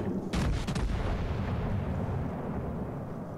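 A battleship's main guns fire in the World of Warships Legends game, with the USS Texas in action: a heavy booming salvo followed by a sustained, rolling low rumble that slowly fades.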